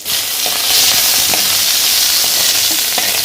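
Urad dal and a green chili fry in hot oil during tempering, giving a loud, close, steady sizzle with faint popping crackles and no talking.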